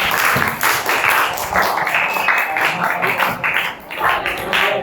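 An indoor audience claps together in steady, dense applause that holds for several seconds without breaks, with faint voices mixed underneath.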